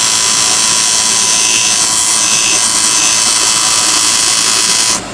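A wooden chess king being turned on a lathe, with the tip of a cutting tool snugging up the bottom, giving a loud, steady, close whirring hiss that holds for about five seconds and then drops off abruptly.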